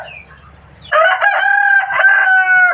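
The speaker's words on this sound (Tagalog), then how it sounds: "Grabe ang ingay ng mga chicken." Near, loud rooster crowing rings out over low background clucking from chickens, the crow starting about a second in and carrying through to the end.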